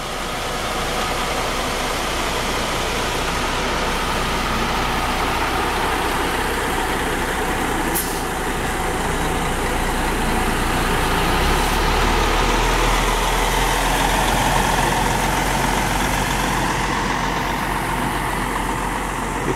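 Buser coach buses idle steadily for about twenty seconds, a continuous low diesel rumble with a slight rise in heavy low-end drone partway through and no talk.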